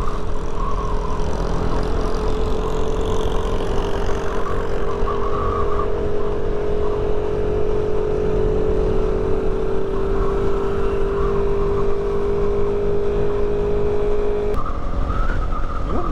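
A motorcycle passing on a road near a riverside campsite on Marilaque, a steady loud engine drone holding for about fifteen seconds before cutting off, with traffic and outdoor noise around it.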